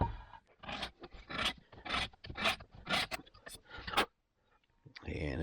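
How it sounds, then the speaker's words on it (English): A hand cutter scrapes a motorcycle dirt bike valve seat during a three-angle valve job. It makes a series of close, rhythmic rasping strokes, then stops briefly before another scrape begins. "So we need to get this so the entire valve seat is cut."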